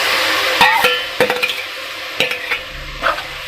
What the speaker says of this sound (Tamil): வெங்காயம் கருவேப்பிலெல்லாம் வதக்கியாச்சு. இப்போ தக்காளி சேர்க்கணும்.